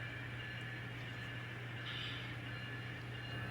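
An N scale model train switches loaded cement hopper cars, giving a steady, continuous low motor hum and faint rolling rumble with no voices.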